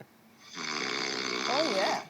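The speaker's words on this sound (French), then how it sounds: "écoutez un peu le ronflement de mon fiancé" A man snores in one long, rasping inhalation, close and fairly loud, with a faint voice nearby.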